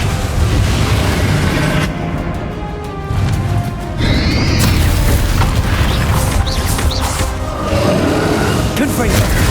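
A Descendo spell slams down in the video game Hogwarts Legacy during the boss fight with Ranrock, heavy crashing booms and rumbling impacts over several seconds amid whooshes and constant battle clamor.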